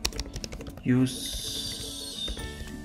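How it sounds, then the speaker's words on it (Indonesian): Fingers tap a computer keyboard in a quick burst of close clicks, followed by a rising electronic tone and a steady hum, with speech audible in the background. "Kita ketik sini"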